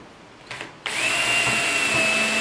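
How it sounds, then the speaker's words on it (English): A couple of light taps, then a power drill pre-drilling a wooden tree branch whirs up and runs steadily at high speed, loud and close. "Now we need to pre-drill this one also."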